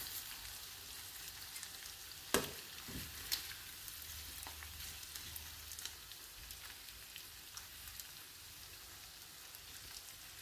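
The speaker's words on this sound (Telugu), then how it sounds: "సూపర్గా ఫ్రై అయింది కదా ఫ్రెండ్స్" Oil sizzling steadily in a pan as small chopped pieces fry for a spicy egg and garlic dish, a soft continuous crackle with a few sharper pops and clinks.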